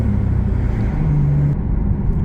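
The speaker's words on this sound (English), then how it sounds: "The daily driven Porsche back in action." A Porsche 911 drives along with a steady, loud low-pitched engine drone and road rumble heard from inside the car, with no voices.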